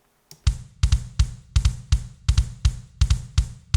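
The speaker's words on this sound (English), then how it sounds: "the drum reverb is the big drums preset from Space Designer" Punk rock kick drum treated with a big-drums preset reverb in Logic, struck in a steady beat of about ten hits, each punchy low thump followed by a short roomy tail, alone with no talk.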